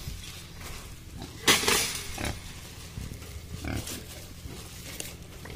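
Pigs on a wild boar farm grunting at feeding time, with a burst of louder squealing and snuffling noise midway and scattered nearby grunts and clatter over a steady farmyard background.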